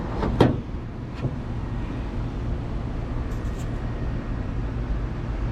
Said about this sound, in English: Does crank over.